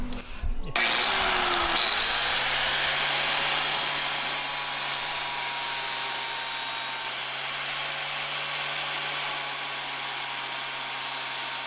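A grinder runs in a makeshift metal fabrication rig in a garage, starting with a rising whine and settling into a loud steady buzzing drone with a constant low hum, close by, with no talk.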